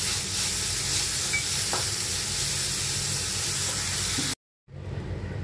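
Grated Indian gooseberry fries in a pan with a steady, close sizzle and a few soft stirring scrapes, then cuts off briefly before resuming more quietly.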